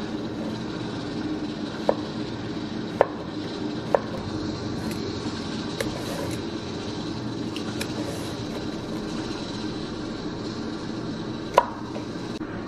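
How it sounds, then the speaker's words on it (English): Knife chopping cucumber on a cutting board, scattered sharp taps at irregular intervals over a steady low background hum, fairly faint and without talk. "And then I'm just gonna chop up my cucumber"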